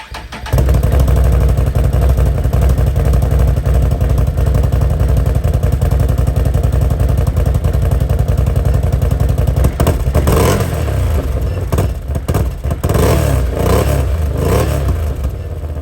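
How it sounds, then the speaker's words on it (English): A loud, close Can-Am Outlander ATV with stock exhaust idles with a steady rumble, then revs sharply in a few bursts before settling back toward idle. "So that was a couple rev clips and idle of the stock exhaust"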